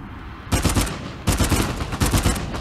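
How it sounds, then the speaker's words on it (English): Gunfire in the video game Uncharted 4: A Thief's End comes in two loud, rapid bursts of close shots that rattle on with no talking. "Let's get ready to shoot him."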